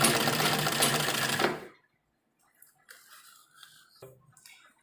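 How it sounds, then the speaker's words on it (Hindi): A sewing machine runs in a fast, steady burst for about a second and a half, stitching a band onto a kurta, then stops, leaving only faint handling sounds and quiet talk. "और एक सिलाई हम इसके ऊपर लगाएंगे ताकि ये हमारी सिलाई दब जाए"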